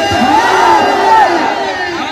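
A large crowd at a religious gathering chants back in unison after a Takbeer slogan, a loud sustained mass of voices rising and falling together close by.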